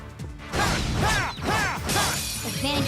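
Glass doors in the video game Trails of Cold Steel 2 shatter in loud crashing bursts, with bright tinkling and swooshing layered over in-game combat noise.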